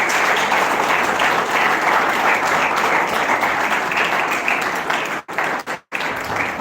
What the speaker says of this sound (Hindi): विनीत विनीत एक बार कलेक्टिव स्नैप के लिए कलेक्टिव तालियां बजाओ सबसे।